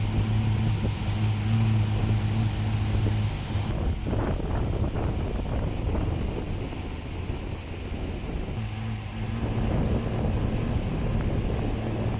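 A tri-hull speedboat engine roars steadily at full throttle, buried in heavy wind buffeting and the rush of water against the hull.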